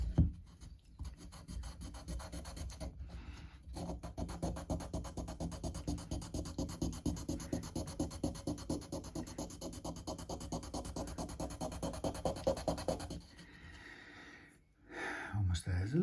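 Guitar part being sanded by hand against a 9.5 inch radius block during a Fender MIM Stratocaster setup, a steady rhythmic rasping stroke repeated rapidly for about thirteen seconds, close and moderately loud, then stopping.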